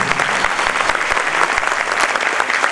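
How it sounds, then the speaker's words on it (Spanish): Strong, close applause from a municipal gathering in Samacá, Boyacá, Colombia, with many hands clapping densely and evenly throughout. "El aplauso bien fuerte."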